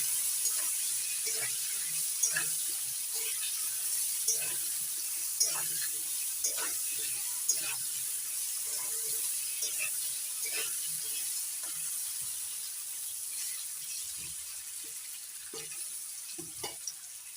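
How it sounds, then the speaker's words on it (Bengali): Potato pieces fry in a pan with turmeric and salt for a thin hilsa fish curry, giving a steady soft sizzle with regular scraping and clinking as they are stirred, near and fairly quiet. "এবার আলুর মধ্যে দিয়ে দিচ্ছি হলুদ লবণ আলুগুলো নাড়াচাড়া করে লাল করে ভেজে নেব"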